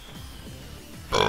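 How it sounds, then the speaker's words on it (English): A cartoonish video game character's burp in Splatoon 3, heard as low, croaky pulses over about a second before a brighter burst of game sound cuts in. "Oh no, I got a burp."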